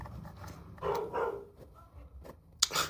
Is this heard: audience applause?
no